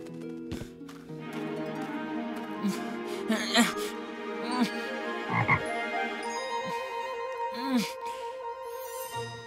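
Frogs croak in an animated fantasy show, a series of loud, close, warbling croaks of varying pitch mixed with character voices.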